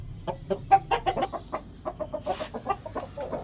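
An Aseel Burmi rooster clucks in a quick series of close, rhythmic short calls, with a brief rustle partway through.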